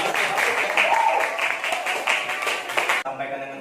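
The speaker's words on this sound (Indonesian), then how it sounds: "tepuk tangan untuk kelompok" Students in a school classroom clap for a group that has just finished presenting, a dense, steady burst of hand claps from many people that cuts off abruptly near the end, leaving quieter room murmur.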